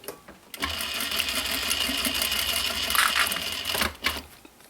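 Sewing machine stitching a recycled denim pouch, a rapid steady mechanical chatter starting after a short pause, running close and even for several seconds before slowing and stopping briefly, then a last quick burst.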